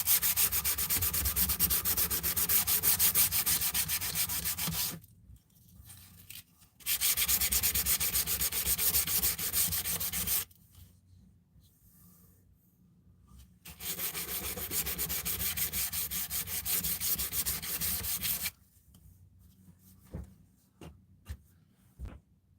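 Guitar wood is sanded lightly in long, even strokes in three close, loud bursts of several seconds each, broken by quiet pauses with faint handling noises.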